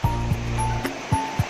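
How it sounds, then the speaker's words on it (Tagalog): River water flows over rocks in a rocky stream, a steady broadband rush with several short low thumps and knocks scattered through it, fairly close and with no voices. "Karon atong paminawon ang sounds sa suba."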